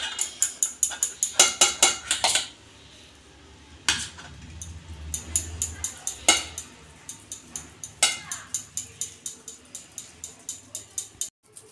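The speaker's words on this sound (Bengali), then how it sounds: "এইভাবে আমি আলুগুলো একটু ঘষে নেব।" Raw peeled potatoes, three of them, scraped by hand against a grater in a kitchen, a rhythmic run of rasping strokes that pauses briefly and resumes, close and crisp, with no talking over it.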